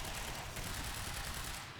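Continuous, dense automatic gunfire in the game Quantum Break, a loud unbroken rattle of rapid shots that fills the entire short moment, close and forceful.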